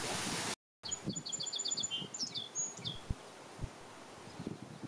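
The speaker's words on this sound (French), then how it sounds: "Écoutez-moi le chant des oiseaux." Birds sing in an outdoor botanical garden park, with several bright chirps and short trilling phrases over soft rustling ambience, and a few low thumps near the microphone.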